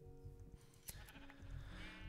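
A sheep in Minecraft bleating while being sheared, a short nasal bleat over low droning background tones, moderately faint with a small click in the middle and no speech.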